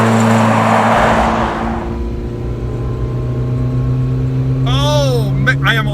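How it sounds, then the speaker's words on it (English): A Yugo car's engine drones steadily from inside the cabin while driving, a low constant hum with a brief rush of noise at the start; a person talks over it near the end. "I'm driving the Yugo."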